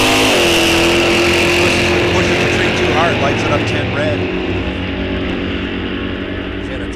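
A drag race car makes a bracket racing pass at Rock Falls Raceway: a loud, sustained engine roar that holds steady, then slowly eases and thins as the car pulls away, with a voice faintly under the noise.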